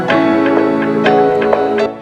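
Vocal chops processed with different delay times and effects in an electronic production. A few short, echoing vocal stabs ring over a held tone, loud and close, then fade away at the end.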